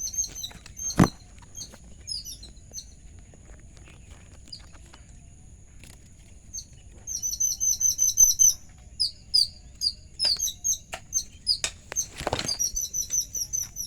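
Tiny baby birds chirp from a nest in thin, high, quick bursts that come and go, growing busier and more clustered in the second half, with a few sharp knocks and light rustling nearby.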